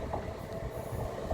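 Train rolling through Grantham station, a steady, close rumble of carriages with faint wheel squeal and no talk.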